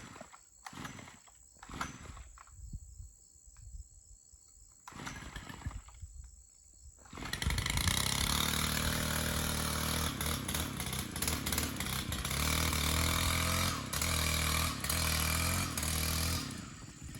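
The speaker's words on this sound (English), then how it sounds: "One man, one weed whacker, yard full." A STIHL FS 91R string trimmer clearing an overgrown property roars to life about halfway through, after quieter outdoor handling sounds, then holds a loud, steady, close engine drone until the end.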